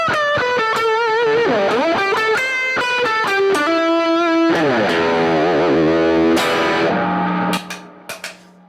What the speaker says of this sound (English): And I can add distortion.